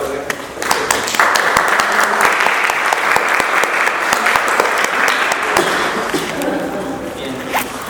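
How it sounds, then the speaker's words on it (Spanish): Loud, sustained applause from an audience at a criminal sciences event and workshop, dense clapping from many hands with a few sharp individual claps standing out, swelling near the start and carrying on steadily throughout. "Quisiéramos pedir un fuerte aplauso"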